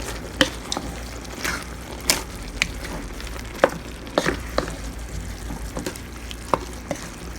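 Seasoned lasagna meat mixture stirred in a pan, a steady low sizzle broken by a dozen or so sharp spoon scrapes and knocks at an uneven rhythm, close and alone without speech.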